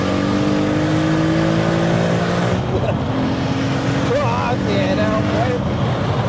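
A VW Golf V6 4Motion tuned to 502 bhp roars loudly as its engine winds up under boost, a steady high-revving drone with rising tones and a gear shift midway, heard from inside the car with faint talk.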